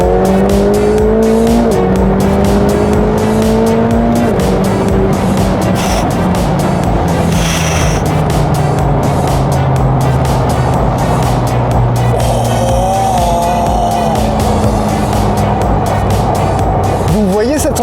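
A McLaren 720S Performance sports car accelerates hard, its engine note climbing through repeated rising sweeps while tires squeal, loud and continuous throughout, with a voice present.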